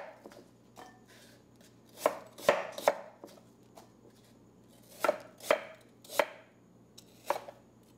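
A knife slices through apples on a cutting board for apple pie, about a dozen crisp chopping thuds arriving in irregular clusters, close and clear with no talking.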